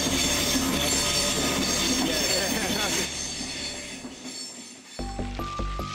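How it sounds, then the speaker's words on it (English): A passing train with loud screeching wheels in a residential street, heavy rumbling and sustained squeal that fade as it passes, then a high tonal screech rings out alone near the end. "once a train's passed, the screeching's so loud"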